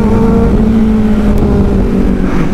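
A Kawasaki Z900 motorcycle engine roars loud and close during an informal race, a steady sustained drone with a slight rise in pitch, no voices over it.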